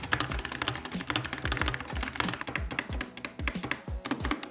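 Fast, steady typing on a SteelSeries Apex Pro gaming keyboard with OmniPoint adjustable switches, a dense run of crisp close-up key clacks with low thocks and no talking.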